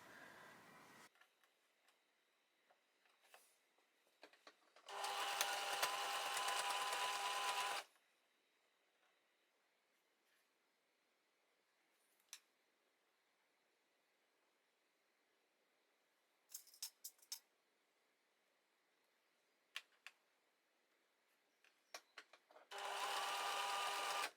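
Sewing machine stitching bias binding onto Platinum Jubilee bunting, running in two loud steady bursts of about three seconds each with quiet handling clicks and taps between them.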